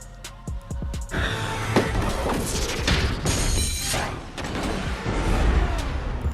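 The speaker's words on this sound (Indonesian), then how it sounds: "mereka melempar bom ke dalam Mega Godzilla dan meledakkannya beserta Nolan di dalamnya" A bomb blows up inside Mecha Godzilla in the film Ready Player One, a sudden crashing blast after a few sharp hits, followed by a long rumbling, roaring wash of debris and noise.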